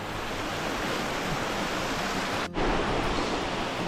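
A small creek waterfall in Arkansas pours in a steady, close hiss of rushing water with a brief dip in sound midway before the flow resumes.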